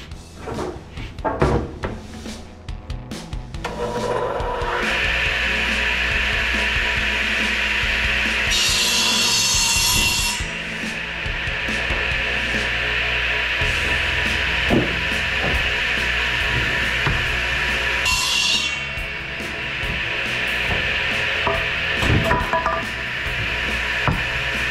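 A power saw runs continuously through 2x3 wood boards for a long stretch, a steady loud whine with a couple of sharper surges, after some bumps and knocks at the start.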